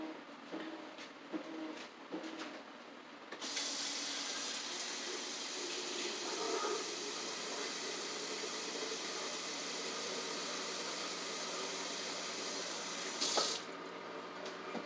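Water runs from a kitchen tap as liquid is added for a vanilla chip flan cake, a steady loud rush that starts after a few seconds of quieter handling sounds and stops near the end.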